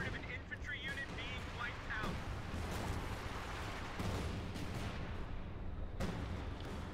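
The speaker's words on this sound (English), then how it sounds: "we see a call-in light artillery barrage right on top of" Light artillery barrage in the World War II strategy game Company of Heroes 2, with a steady roar of shell blasts and gunfire that flares sharply at a few points, heard under continuous talk.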